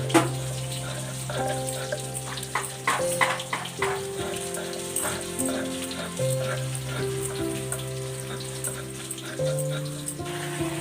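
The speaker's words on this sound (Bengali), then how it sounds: "আলুটা ভাজা হচ্ছে" Potatoes fry in a pan with a steady, close sizzle that carries on without a break, joined by a few light clinks and clatters from the pan. No one speaks.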